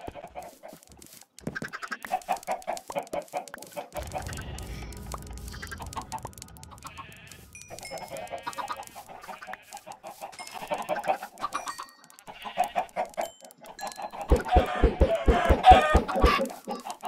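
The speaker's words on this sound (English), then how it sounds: "Let me breed this chicken." Chickens cluck in a mining and resource-gathering video game, with short clucks scattered over about seventeen seconds among game sounds, ending in a louder burst of rapid clucking.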